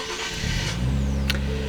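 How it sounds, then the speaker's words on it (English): A 2023 Nissan Z with a manual clutch starts up close by, its engine catching and settling into a steady, low idle rumble. "I'm going to start up the Z"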